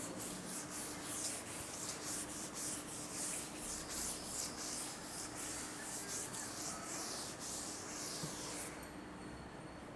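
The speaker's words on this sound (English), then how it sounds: "Shall I rub the board, children?" A classroom board wiped clean with a duster gives steady, continuous rubbing strokes in a quick repeated rhythm, close and fairly loud, stopping just before the end with no talk over it.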